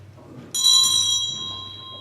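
A single bright bell strike rings out clearly, its metallic tone lingering and slowly decaying over a quiet background.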